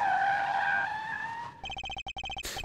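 Car skidding and speeding away in a video game sound effect: a sustained tire screech fades out, then a rapid chattering pulse of short bursts ends with a sharp noisy hit, all fairly close with no talking.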